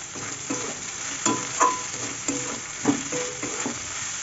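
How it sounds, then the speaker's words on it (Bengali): Salted ingredients fry in a pan for chirer polao, a steady close sizzle broken by repeated scraping strokes of a spatula stirring at a loose, regular rhythm. "এটা একটু ভালো ভাজা হোক, আবার ফিরে আসছি।"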